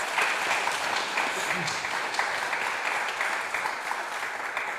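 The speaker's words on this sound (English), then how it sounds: "And yes, they deserve a round of applause." Audience at an evening poetry event applauding a community partner organization with a steady, dense wash of clapping that carries on evenly for several seconds.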